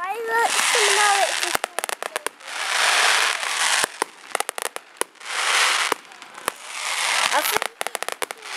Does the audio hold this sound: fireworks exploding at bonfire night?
yes